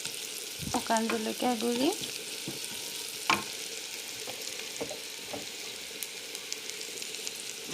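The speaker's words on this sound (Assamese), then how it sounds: "সেই তেলখিনিতে মই পিঁয়াজখিনি দি দিছোঁ" Onions sizzle in hot oil in a pan, a continuous frying hiss with sharp scraping clicks of a spoon stirring them, close and clear, with a brief spoken phrase near the start.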